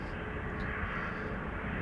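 An Emirates SkyCargo freighter jet at Amsterdam Schiphol Airport gives a steady, broad engine roar, constant in level and heard from a distance, with no voices.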